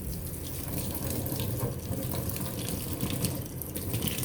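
Cold water runs steadily from a kitchen tap, a continuous hissing splash as it fills a coffee maker, close and constant throughout with no talk.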